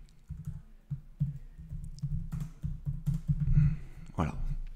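Someone types steadily on an Apple computer keyboard nearby, with bursts of quick key clicks and short pauses while composing an email body.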